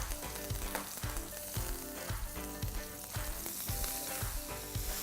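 Fresh bay leaf and thyme sizzling in hot rendered bacon fat, a steady loud crackling hiss with small pops running throughout, close and alone.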